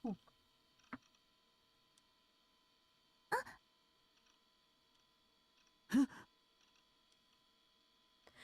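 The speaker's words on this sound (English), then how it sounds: "Her sudden gasp startled me" A woman gives a sudden, sharp gasp in the visual novel Chaos;Head Noah, heard as a few short, breathy vocal bursts over a faint, steady background hum.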